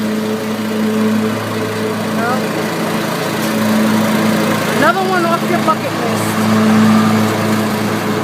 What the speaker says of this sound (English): So ecstatic about his new lawnmower.